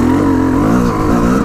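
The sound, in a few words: motorbike engine revving during a test ride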